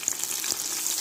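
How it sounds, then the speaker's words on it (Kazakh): Chicken wings frying in hot oil in a pan at home, a close, continuous crackling sizzle with faint stirring and no voices. "Мінекей сіздерге қуырылу процесін көрсетейін."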